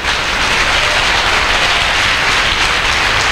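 A church congregation applauds in a steady, dense wash of clapping that stays loud and even throughout, with no voices standing out.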